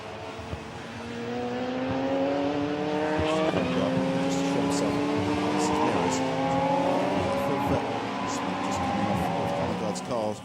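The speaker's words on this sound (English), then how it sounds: "we've now got this 5-car battle for third place" Radical race cars at the Barcelona circuit, with several engines howling loudly together as a pack, their pitch shifting through gear changes and corners while a commentator talks continuously over them.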